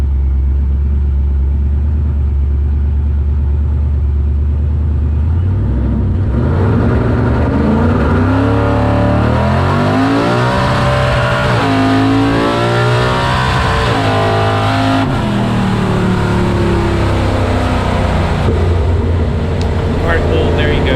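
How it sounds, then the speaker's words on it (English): A drag race car launches after about six seconds of low rumble, its engine screaming up through repeated rising sweeps and bouncing off the rev limiter through the pass, loud and close, with someone talking over the engine at times. "let's make this second pass and see if John fixed the rev limiter"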